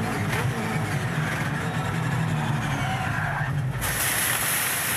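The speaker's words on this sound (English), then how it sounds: "There was a bit of rear brake locking going on there" Supercars race car at the Melbourne SuperSprint heard onboard, engine roaring loudly with tire scrub and skidding as the rear brakes lock under braking, continuous and close.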